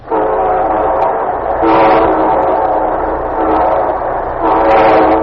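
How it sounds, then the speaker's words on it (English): A train horn sounds in long, loud blasts over the rumble of an approaching locomotive, close and sustained. "here comes our star-studded show train"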